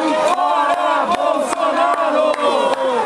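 A large protest crowd of Grêmio antifascist supporters in Porto Alegre chants loudly in unison, rhythmic shouted phrases repeating with brief pauses, close and dense.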